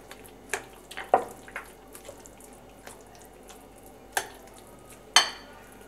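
Bread breakfast batter being mixed, with irregular soft wet stirring and clinking taps, a few sharper knocks near the end, close and fairly quiet, no voices.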